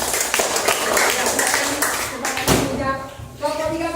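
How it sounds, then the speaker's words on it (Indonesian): A classroom group claps together in a short burst of applause, dense and close for a couple of seconds before tapering off as a voice speaks over the room. "kasih aplaus dulu untuk kelompok"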